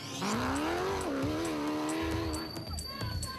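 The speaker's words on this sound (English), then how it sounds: "The next production vehicle off is the Ford Racing Ranger of Visser and Badenhorst." A Ford Racing Ranger rally truck sets off on slippery ground during the Nkomazi 400 race, its engine revving up sharply and climbing in pitch, fairly close, as the tyres scrabble over the surface.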